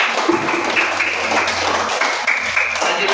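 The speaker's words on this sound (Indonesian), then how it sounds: "kita kasih tepuk tangan untuk kelompok 2" Classroom audience applauding a student group after its presentation: loud, continuous clapping from many people in a room, with a few faint voices underneath.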